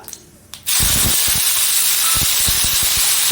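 Mustard seeds, dried red chilli and curry leaves hit hot oil with a sudden loud sizzle that holds as a steady close hiss, with small popping crackles scattered through it.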